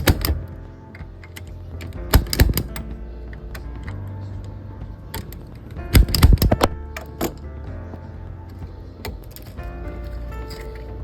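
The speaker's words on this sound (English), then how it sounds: "Use your punch down tool to punch and cut excess wires." Punch down tool seating and trimming Cat6 wires into a patch panel: a series of sharp clicking snaps in bursts, some clustered closely, with quieter gaps between, close and fairly loud over a low background hum.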